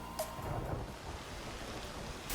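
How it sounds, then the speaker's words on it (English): Soft rain hiss with a low thunder rumble from a Desktop Dungeons video game, faint and brief, with no talking over it. "Rain?"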